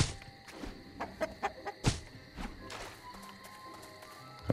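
Chickens cluck in the Portal Knights video game, a run of short, soft clucks scattered over a few seconds against quiet game ambience.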